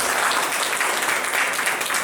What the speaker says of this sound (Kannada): ನಿಜವಾಗ್ಲೂ ಅವರಿಗೆ ನೀವೆಲ್ಲರೂ ಒಂದು ಚಪ್ಪಾಳೆಯನ್ನು ಕೊಡಲೇಬೇಕು